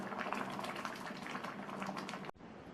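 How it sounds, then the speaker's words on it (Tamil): Thandu keerai (amaranth stem) sambar boils in a pot with a faint, continuous bubbling simmer that cuts off abruptly near the end, with no voices. "நல்லா கொதித்து புளிக்கரைசலோட பச்சை வாசனையெல்லாம் போய் நம்மளுடைய சாம்பார் ரெடி ஆயிடுச்சு"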